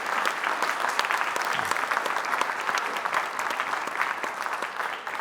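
A live debate audience breaks into sustained, even applause, a dense wash of clapping from a full room lasting several seconds without talk.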